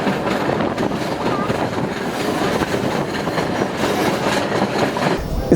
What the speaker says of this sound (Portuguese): Olha o trem passando aí, ó.